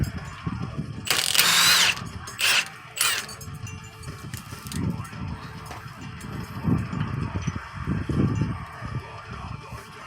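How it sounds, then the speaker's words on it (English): Milwaukee impact wrench rattling off axle bolts on a Volkswagen Atlas during a front wheel bearing job, in a few loud, close bursts of hammering with quieter shop clatter between them. "if you don't have one of these Milwaukee impacts, then hey, get one, because they're wonderful for removing axle"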